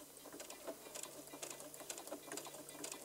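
A sewing machine stitches a quilt block at close range, giving a quiet, rapid, rhythmic ticking patter that runs for the full few seconds with no voices.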